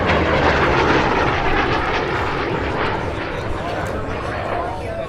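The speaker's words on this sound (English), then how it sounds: "One of the finest fighters ever built, and today's F4U Corsair name earned the nickname Korean War Hero." F4U Corsair fighter's piston engine roaring loudly and steadily at an airshow, a broad continuous drone that eases slightly toward the end, with an announcer talking over it.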